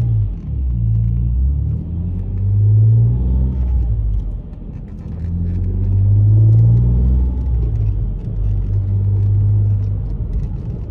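A Ford Mondeo ST220 driven at night on a city road, its engine rumbling and swelling through gear changes in two long surges, heard from inside the cabin with no talk.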